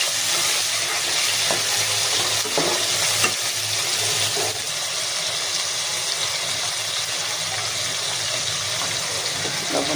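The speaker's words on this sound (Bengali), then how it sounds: "চিংড়ি মাছ আমাদের একটু হালকা ভেজে নিব।" Shrimp sizzle lightly in a pan: a dense, steady crackling hiss holds for ten seconds, close and fairly loud, with a few soft scrapes from stirring.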